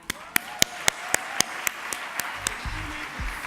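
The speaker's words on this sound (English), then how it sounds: "Please give a round of applause to Amy Guy." Audience applause for Amy Guy at a Women In Film gathering comes through as evenly spaced, distinct claps, each sharp and close, growing softer toward the end as low voices begin.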